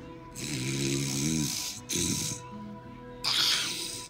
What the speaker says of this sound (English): She was snoring.